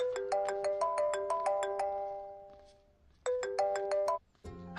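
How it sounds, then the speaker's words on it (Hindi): A melodic electronic phone ringtone for an incoming call plays a bright, repeating note pattern, fades out, then starts again close and clear before being cut off. "आपको किसी का फोन आ रहा है।"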